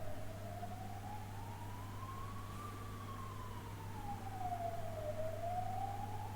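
Ambulance siren sound effect with a single slow wailing tone that rises and falls over several seconds, steady and fairly loud over a constant low hum, with no talking.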